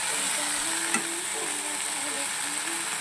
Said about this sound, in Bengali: তাই একটু নাড়াচাড়া করবো যতক্ষণ এটা মেল্ট না হয়ে যায়।